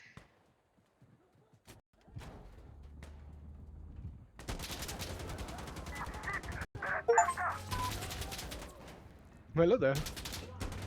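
A mounted gun fires in rapid sustained bursts in the shooter game Insurgency Sandstorm. Dense, loud gunfire sounds over game ambience while a player briefly talks.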